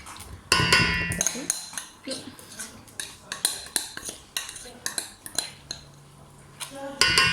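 A spoon clinks and scrapes as cake batter is gently stirred in a bowl, with irregular knocks and taps close by over several seconds and a voice speaking faintly in places.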